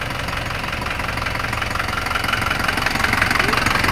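An Isuzu Panther Turbo 4JA1 diesel engine idles about one metre away, a continuous rattly rumble with a slight knocking texture that grows a little louder toward the end.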